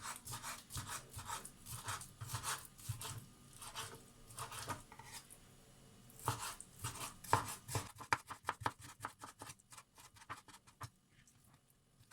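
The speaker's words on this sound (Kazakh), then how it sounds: "осылай ұсақтап барлық жаңағы тауығымыздың төс еті, яғни куриный филе дейміз, жақсылап барлығын турап алдық" Chicken breast being chopped by hand with a knife on a board, with quiet, repeated rhythmic cutting and scraping strokes that come in bursts and grow faster toward the end, with no talk.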